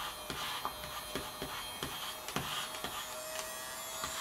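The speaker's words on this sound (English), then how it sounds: "if I turn it again, the Hoover starts up" A Poundland USB mini vacuum cleaner running, a thin high whirring motor hum with small irregular clicks and rattles, close and steady.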